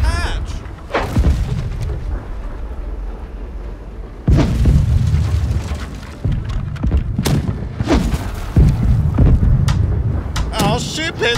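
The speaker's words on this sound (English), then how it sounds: "Right side cannons, now you can." Ship cannons fire in the Blackwake naval video game: a string of heavy, booming blasts with rumbling tails, some spaced apart and others in quick clusters, loud and close.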